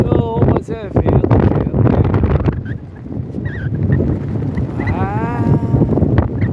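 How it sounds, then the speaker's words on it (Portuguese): A strong northeast wind on a beach at Laguna, Santa Catarina, buffets the microphone in loud, continuous rumbling gusts, with voices faintly mixed in. "Não, mas é vento."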